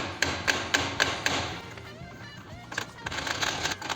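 Tapping on the king shaft of a Ducati 250 Deluxe engine during restoration: a run of five sharp metallic taps at an even pace, followed by quieter clinks and shuffling workshop handling sounds.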